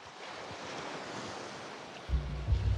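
Ocean waves roll onto a beach under steady wind, a constant broadband surf wash with heavy low wind rumble buffeting the microphone toward the end, no voices.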